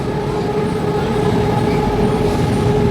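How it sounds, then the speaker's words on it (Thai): Steady, loud rumble of a train passing close by near the Lat Phrao intersection in Bangkok, with a sustained tonal whine riding over the continuous rolling noise. "มาดูรถไฟ"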